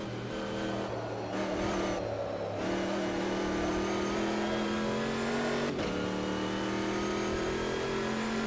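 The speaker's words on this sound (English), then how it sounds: "Over revving the engine a little bit." Racing car engine in the Automobilista 2 sim, revving high and held near the limit, a loud continuous whine that climbs steadily in pitch, dips briefly on a shift, then climbs again, with no talk.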